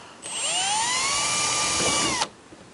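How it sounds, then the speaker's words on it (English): A power drill bores into a polystyrene section of a car crash bar on a widebody Alfa Romeo Giulietta build, a close, sustained high whine that ramps up and cuts off after about two seconds. "We'll drill a little."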